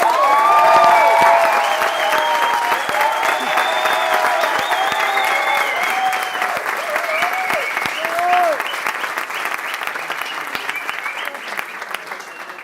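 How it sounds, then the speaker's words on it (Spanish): Audience at a convention gathering gives loud, steady applause with scattered cheers and whistles, dense clapping that gradually thins out while voices mingle in. "luego lo vamos a recibir con un muy fuerte aplauso"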